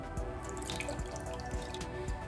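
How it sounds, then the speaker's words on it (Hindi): Water poured from a tap into a pan holding sugar on a stove, making a steady splashing, trickling stream with soft drips, close and alone. "और चीनी के साथ ही हम इसके अंदर शामिल करेंगे पानी।"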